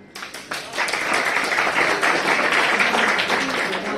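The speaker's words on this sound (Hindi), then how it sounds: "अब तालियों की धूम से स्वागत कीजिए कक्षा 10 के राजन का" Audience at a school talent hunt show claps to welcome a class 10 student, the applause building quickly from scattered claps into a dense, steady round.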